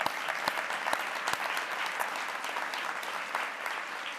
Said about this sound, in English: A huge round of applause for our corporate members.